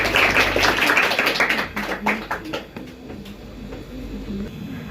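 An audience claps for a poem recited at a National Youth Day 2025 event. The clapping is dense and fairly loud at first, then thins and fades to scattered claps over a low background hum.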